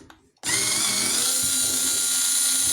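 Power drill starts abruptly and whines steadily as it removes a screw from the casing of an SMAW welding machine, loud and close, alone after a brief quiet moment.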